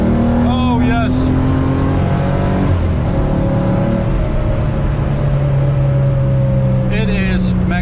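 A 1986 Porsche 911 wide-body driven hard, its engine roaring loudly from inside the cabin and rising and falling through revs and gear changes, with brief tire squeals and a voice talking over it.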